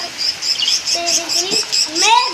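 Lovebirds, including a baby, chirp in quick, high-pitched bursts close by, a rapid series of bright tweets with a few lower squeaky calls mixed in.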